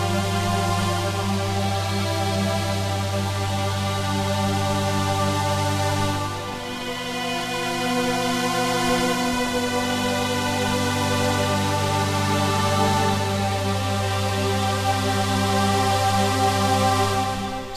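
A sustained, thick synthesizer pad chord from Reason 5 drones steadily with a wash of reverb, shifting slightly midway, loud and continuous with no voices.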